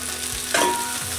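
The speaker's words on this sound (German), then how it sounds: "dann das Ganze erstmal schön brutzeln lassen, bis es so ein bisschen knusprig auf einer Seite ist" Potatoes and meat fry in a pan for Berliner Hoppelpoppel, giving a steady close-up sizzle with a brief stirring scrape in the middle.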